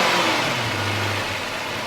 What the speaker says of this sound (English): You can hear the engine sound super healthy.